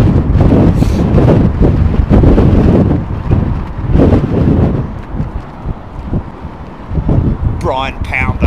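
Strong wind buffets a microphone at London Heathrow Airport, loud rumbling gusts that rise and fall throughout, with someone talking under the roar.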